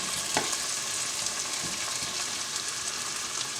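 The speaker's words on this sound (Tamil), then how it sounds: "தக்காளி கொஞ்சம் வதங்கி வரட்டும்." Tomato pieces fry in a pan as the base for a fish curry, giving a steady, bright sizzle that runs unbroken with faint stirring scrapes. No one talks.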